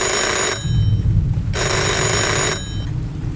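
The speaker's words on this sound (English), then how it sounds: "a second notification." Phone ringing alert rather than a short chime, a loud, close electronic ringing in repeated bursts of about a second each, separated by short gaps over a low rumble.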